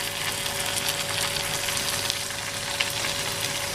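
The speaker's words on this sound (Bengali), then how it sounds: "পেঁয়াজটাকে ভালো করে কষিয়ে নিচ্ছি।" Onions frying in a pan for chicken kasha, a steady soft sizzle and crackle with faint stirring, close and alone.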